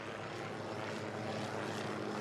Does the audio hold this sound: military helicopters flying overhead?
yes